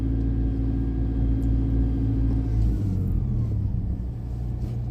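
A manual pickup truck creeps along slowly with a low steady engine rumble that shifts in pitch partway through as the gear changes, heard from inside the cab with no talking.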